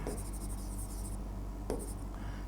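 Chalk or marker scratches on a board in short strokes with a pause between two bursts, close and fairly quiet over a low background hum.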